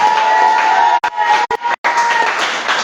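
A church congregation cheers and acclaims together in a loud, close roar of voices, cut by brief pauses and then swelling again.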